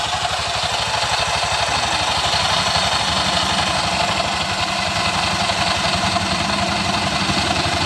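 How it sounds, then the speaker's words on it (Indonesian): A Honda Vario scooter that had trouble starting runs at a steady idle, its engine close and loud with an even, continuous drone that holds without change throughout. "kontak on dan kita starter mesin"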